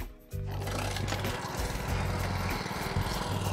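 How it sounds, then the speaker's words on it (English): A lawn mower's engine catches after a short quiet moment and settles into a steady, loud, close running drone, used for yard mowing in Hawaiian landscaping work. "I never wanna have anything in front of the mower when I start it"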